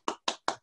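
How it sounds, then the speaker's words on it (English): Applause for two guest speakers at a space-exploration event: three distinct bursts of clapping from a crowd, evenly spaced and moderately loud, with a fourth beginning at the end. "And so I want to applaud the two of you"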